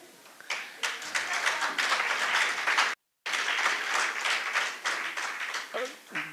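Audience applause at a Pan African youth conference, a dense steady clapping from a large crowd that breaks off for a moment mid-way and then resumes just as strongly, with faint voices mixed in.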